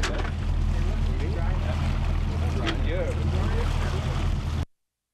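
Charter fishing boat heading out through choppy Toronto Harbor water, a steady low engine drone under continuous splashing and wind noise, close and loud, before cutting off abruptly.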